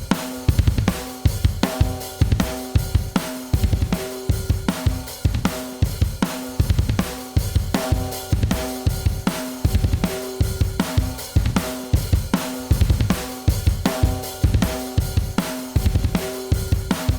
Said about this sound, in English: On the drum bus it sounds like this